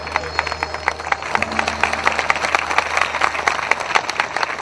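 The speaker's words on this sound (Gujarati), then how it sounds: "જોરદાર તાળીઓથી એક ક્ષણને આવકારીએ બિરદાવીએ" A wedding audience at a mass marriage ceremony claps steadily, with dense overlapping applause held at an even level throughout and faint background murmur beneath.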